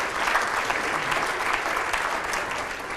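A civic audience at a 2014 state of the city address claps steadily and loudly, a dense sustained applause filling the whole stretch.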